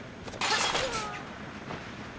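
Glass windows shatter during a post-apocalyptic survival video game set in a botanical garden: a sudden loud crash bursts out, then fades into a lingering tinkling rattle over steady background noise.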